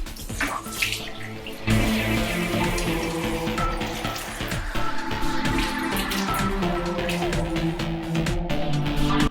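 Water runs steadily from a tap while makeup is rinsed off the face with a cleansing soap, a loud continuous splashing with hands scooping and slapping water throughout.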